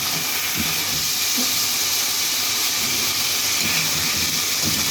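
Liver frying in a pan of butter and oil makes a loud, continuous hiss and sizzle, steady and close throughout with faint low bumps underneath and no talking.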